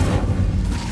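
A fire spell cast in Hogwarts Legacy gives a short, loud, low booming whoosh that rumbles for under a second, standing alone without talk.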